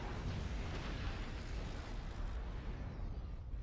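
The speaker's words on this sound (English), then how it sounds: "I can kick out a lot of missiles really fast because they reload quickly as well" Rapid volleys of missiles launched from light MOM-20 launchers on a Zeus mech in MechWarrior Online, blending into a steady, rumbling wash of launches and explosions at moderate, fairly distant loudness.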